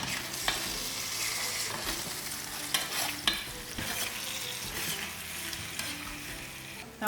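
Chicken pieces air-frying without oil, flipped midway through cooking and sizzling with a continuous crackling hiss, broken by a few clicks and knocks as the pieces are turned.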